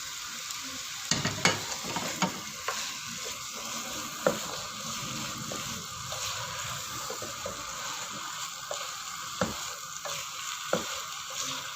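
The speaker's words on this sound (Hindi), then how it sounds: "इसको अच्छी तरह से भून लिया है" Carrot halwa being roasted and stirred in a pan, a continuous soft sizzle with occasional scraping knocks of the spoon against the pan, fairly quiet and steady.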